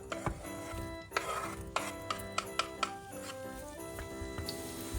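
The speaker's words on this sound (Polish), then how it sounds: "Masło się już rozpuściło. Teraz wrzucam cebulę." Onion hitting melted butter in a frying pan, with a soft sizzle under clinks and scrapes of a utensil stirring against the pan, a handful of sharp taps spaced across a few seconds.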